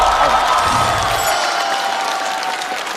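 A live stand-up comedy audience applauds loudly and steadily, a dense wash of clapping with some cheering that slowly eases off.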